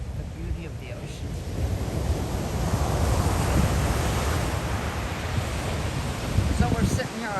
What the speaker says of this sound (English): Where you get a big, huge swell of a wave and it curls and drops.